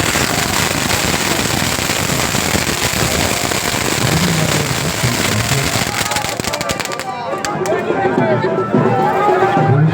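Fireworks display on a club ground in Chandanpur, Sundarbans: a dense, continuous crackle of firecrackers goes on for several seconds, loud and steady, and then thins to scattered pops with people talking in the background.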